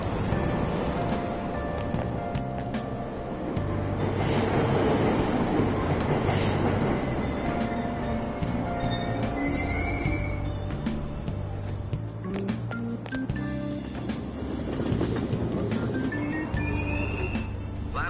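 A Tokyo subway train pulls away from the Aoyama-itchome platform, its motor whine rising in pitch over rumbling wheels and rhythmic clacking, steady and loud for about eighteen seconds, with chimes and a faint announcement in the background.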